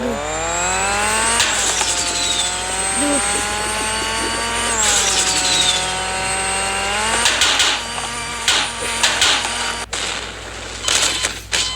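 A close car engine revs up and down in long rising and falling sweeps, then sputters and pops unevenly toward the end.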